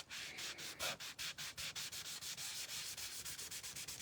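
Craft paste is scrubbed off a tabletop in quick, even back-and-forth strokes, a close, rhythmic rubbing that keeps a steady pace throughout.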